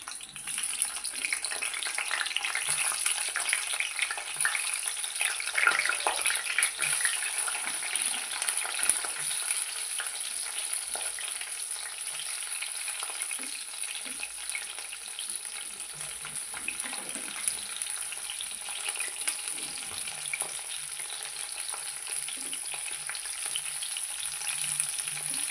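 Eggplant pieces fry in hot oil in a pan for Telugu-style gutti vankaya curry, giving a constant close sizzle and crackle. Faint stirring or scraping noises come and go beneath it.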